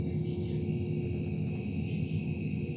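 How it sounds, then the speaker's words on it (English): Crickets chirping at night, a steady high-pitched trill that runs continuously at a moderate level over a faint low background hum. "All I should hear is crickets and frogs"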